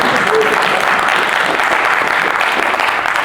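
Sustained audience applause with crowd noise from a live motivational speaking event, steady and dense throughout with no break.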